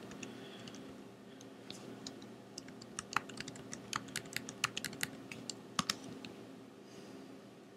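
Computer keyboard typing of router configuration commands for OSPF, a quiet run of irregular key clicks over steady background hum, faster in the middle and tapering off near the end.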